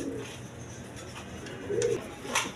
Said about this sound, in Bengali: এইখানে একটা খড়মোড়া নর কবুতর আছে